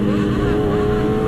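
A Yamaha R6 sport motorcycle engine on a group ride drones loud and close, holding a steady high-pitched tone for a brief moment.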